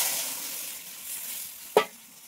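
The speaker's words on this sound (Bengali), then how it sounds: "এখন জল দিয়ে দেব।" Water is poured into spice paste frying in a pan for a fish and brinjal curry, giving a sudden brief hiss over a faint background sizzle.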